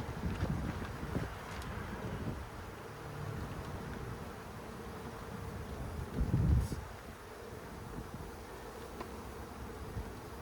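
A swarm of honey bees flies around in gusty outdoor wind, a faint, steady insect drone partly buried under low wind rumble, with one brief louder gust near the middle.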